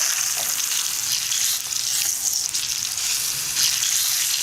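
Eggplant slices frying in a pan, halfway done and browned, give a steady, close sizzle that crackles evenly throughout with no voices over it.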